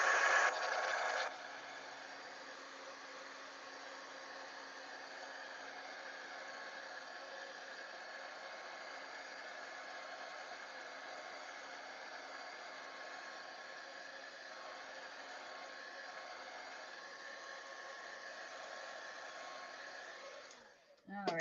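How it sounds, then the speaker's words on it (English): A handheld dryer blows steadily on oxide ink on a stamped card, a continuous close whooshing hum lasting about twenty seconds before it switches off. "I am going to dry this because it's an oxide ink and it does stay damp"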